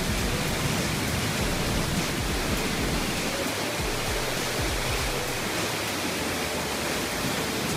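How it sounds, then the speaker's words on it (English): Minor set of waterfalls near Jasper rushing steadily, an even, broad roar of falling water without voices. "Another set of waterfalls there."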